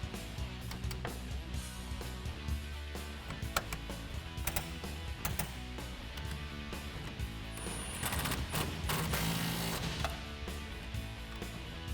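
An 18mm socket wrench ratchets as roll bar hardware is tightened on a 2009-2018 Ram 1500 pickup: repeated clicking and clattering metal against a steady mechanical background, loudest near the end.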